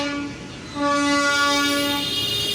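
A freight train's horn sounds a long, loud tone that breaks off and resumes over the low rumble of the train leaving the Saidpur railway workshop in Bangladesh.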